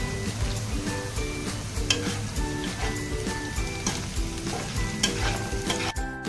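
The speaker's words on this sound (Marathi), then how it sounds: "कांदा परतल्यानंतर आपण टाकून घेऊया कोबी कोबी पण फ्राय करून घेऊया" Cabbage and onion stir-frying in a pan for cabbage Manchurian, with a steady close sizzle and frequent scraping stirs, moderately quiet and without talking.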